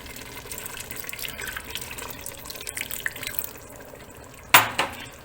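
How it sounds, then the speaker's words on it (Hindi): A cup of water is poured into a pot of anda chanay, a close trickling and splashing pour with a sharp louder splash near the end, no talking. "अब हम इसके अंदर पानी ऐड करेंगे 1 प्याली।"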